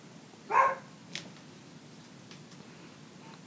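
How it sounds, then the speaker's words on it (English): A dog barks once in the background, a single short muffled bark that stands out from a quiet room tone, followed by a few faint ticks and knocks. "I can hear my dog barking in the background"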